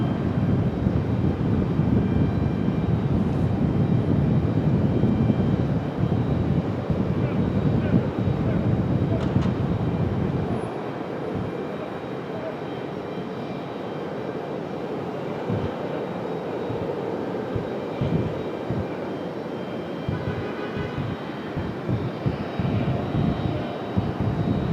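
An airliner on approach to Raleigh Durham airport roars overhead, a broad heavy engine rumble loud at first and then easing to a lower steady drone.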